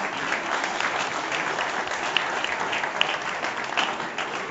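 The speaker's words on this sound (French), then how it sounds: "on l'applaudit très fort." A crowd applauds the winner of the 2012 Jeune Morvan trophy at an outdoor prize ceremony. The clapping is steady and dense, holds at an even level for the whole stretch, and no one talks over it.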